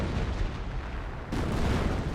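Artillery fire in the Company of Heroes video game, sector artillery shells landing as a sustained rumble of deep booms with a heavier blast halfway through, loud and continuous.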